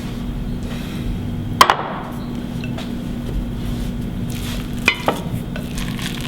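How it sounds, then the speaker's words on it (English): A quinoa bar mixture is stirred together in a bowl, with soft scraping and a few sharp knocks of the utensil against the side, set over a steady low background hum. "Now comes the fun thing, mixing it all together."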